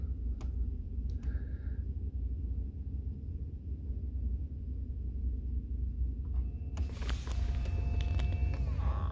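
The heat blend door actuator in a 2010 Dodge Ram creaks and whirs faintly during calibration, with a few soft clicks early on. A louder mechanical burst of clicks and rattles comes near the end over a low cabin hum.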